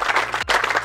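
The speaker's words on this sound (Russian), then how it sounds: "Аплодисменты!" Applause from an audience at a fishing tournament awards ceremony, a steady wash of clapping hands through nearly a second, with a brief dip partway before it swells back up.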